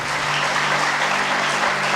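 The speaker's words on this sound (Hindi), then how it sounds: "ताली बजाओ प्रभु के नाम से" A church congregation claps together during an adoration and healing prayer service, a dense, even burst of applause that lasts a couple of seconds, with no voices.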